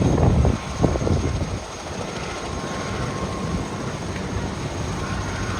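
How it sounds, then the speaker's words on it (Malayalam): A yellow helicopter idling at a high-altitude helipad in the Everest region, a steady broad rotor and engine roar that holds at an even level and fills the whole clip. "അവിടെ ഒരു ഹെലികോപ്റ്റർ വന്ന് കിടപ്പുണ്ട് അതിപ്പം പോവായിരിക്കും"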